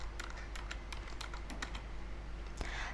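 Computer keyboard keys tapped as a new password is typed, a string of quick irregular clicks over a steady low hum, moderately close and with no talk.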